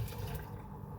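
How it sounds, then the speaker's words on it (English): Hot water poured into a blender jar while making a homemade iced matcha green tea latte, a faint, steady low splash of liquid running for about a second with no talk. "Now you take your hot water,"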